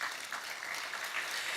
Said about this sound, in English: One round of applause for him, please.